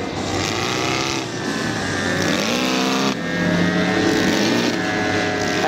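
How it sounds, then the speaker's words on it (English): A ROTO 170cc flat-four petrol engine powers a scratch-built 1/3 scale RC Avro 504 WW1 biplane in flight, a loud steady buzzing drone whose pitch sweeps up and down as the aircraft passes and turns. "And just have a listen to his engine."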